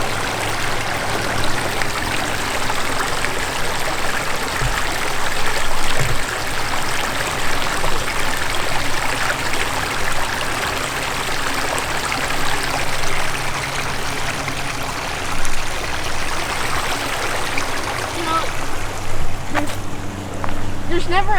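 A creek in a park nature center flows with a continuous, fairly loud babbling rush that stays steady throughout, while people talk over it.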